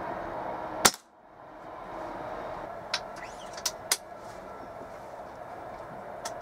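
A Weihrauch HW97 spring air rifle with a replaced spring fires one sharp, loud shot early on, followed by several fainter, brief clicks and ticks against a steady low background hiss.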